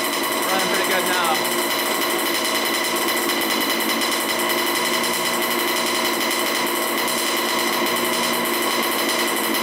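A restored 1987 Honda CR80 two-stroke dirt bike engine runs steadily up close, a loud buzzing drone that holds throughout while a voice talks briefly near the start.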